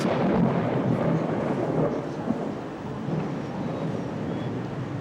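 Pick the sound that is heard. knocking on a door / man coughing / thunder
thunder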